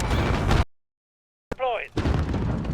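A cruise missile strike lands in Modern Warfare 2 with a sudden sharp blast after a moment of silence, then a brief whistling, warbling tail, while a voice talks over the surrounding game audio.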